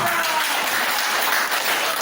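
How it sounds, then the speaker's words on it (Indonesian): Students in a classroom applauding after a group presentation, a dense, steady clapping that fills the room without pause. "Tepuk tangan"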